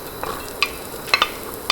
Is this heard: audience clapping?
no